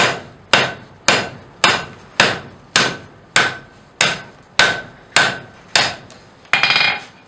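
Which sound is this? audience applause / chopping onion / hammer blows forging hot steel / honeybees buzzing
hammer blows forging hot steel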